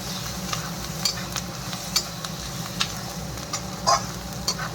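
Masala of turmeric, chilli powder and coriander powder fries with a constant sizzle while a spatula scrapes the pan in sharp, regular strokes roughly every second, with no voices.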